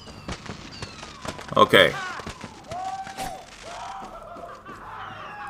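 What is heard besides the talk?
fireworks in the video game Far Cry 6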